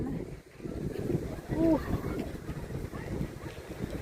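Steady wind buffets the microphone in low rumbling gusts, with voices and outdoor noise underneath.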